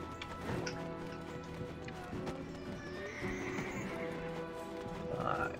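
A horse in the Black Desert Online video game whinnies while hooves clip-clop at a steady rhythm, set against layered game music and ambience.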